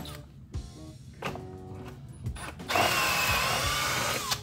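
A power drill bores pocket holes in clamped wooden boards for a stove top cover and noodle board, whirring in short bursts before a louder, sustained run near the end, close up with no talk.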